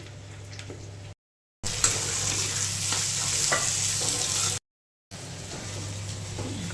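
Fried potatoes cooking in a pan, giving a steady close sizzle with occasional stirring clicks, broken by two short silent gaps, no voices.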